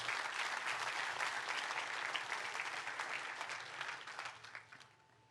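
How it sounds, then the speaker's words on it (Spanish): A church congregation applauds during a sermon, a dense, steady clapping that thins out and fades toward the end. "Dele un fuerte aplauso a Dios por eso."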